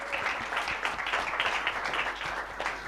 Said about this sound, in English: Just a round of applause once again for His Excellency